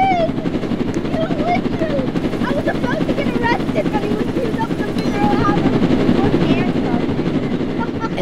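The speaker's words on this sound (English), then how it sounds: "That wasn't me, that was my helicopter doing it." Helicopter in the Roblox game Jailbreak flying, a loud continuous rotor drone and engine roar held steady throughout, with faint whistling and chirpy game sounds layered on top.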